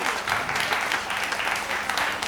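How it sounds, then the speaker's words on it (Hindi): An audience at a comedy poetry gathering claps in honour of an SDM, a dense, continuous round of applause from a crowd. "तुम इनके सम्मान में ताली बजाओ"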